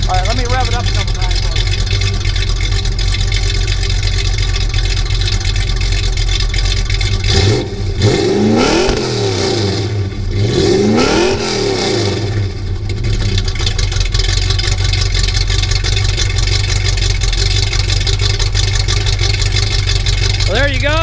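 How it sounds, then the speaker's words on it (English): A 1973 Plymouth Roadrunner with a 318 V8 idling, then revved twice in quick succession, each rise and fall loud and close, before settling back to a steady idle; someone talks over the engine. "All right, let me rev it up a couple times."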